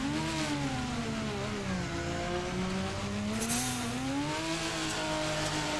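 A Toyota Supra engine in the Torque Drift video game, revving hard and steadily while drifting, pitch wavering up and down with throttle, loud and constant with no talk.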